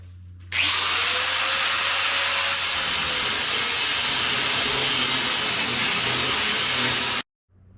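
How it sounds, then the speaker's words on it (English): Angle grinder cutting brackets off a car chassis, a loud, steady high-pitched whine with harsh metal grinding that runs continuously for about seven seconds before stopping abruptly. "So we got the grinder, so we'll start doing that now."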